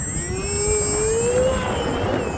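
A HobbyZone Aeroscout RC airplane's electric motor whines in flight on a windy winter day, a steady rising-and-falling tone from the plane overhead above constant wind rumble, with no talking.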